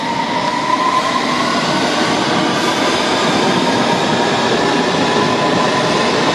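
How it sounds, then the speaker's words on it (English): A London Underground District line train departs Fulham Broadway for Wimbledon, rumbling loudly and continuously with rushing wheel noise and a faint squeal, close by. "departing now for Wimbledon is the district line service"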